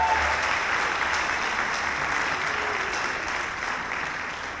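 A concert audience applauds for the guest artists, a dense, steady clapping that fills the hall and eases slightly toward the end, with no talk over it.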